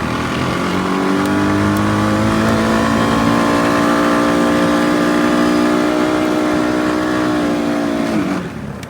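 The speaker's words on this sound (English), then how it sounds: "See how that last shift was extremely delayed? You just slipped forever, then grabbed finally." Honda motorcycle with a DCT automatic gearbox, engine revving loud and close with rising tones that hang while the gear shift slips, then cut off abruptly near the end.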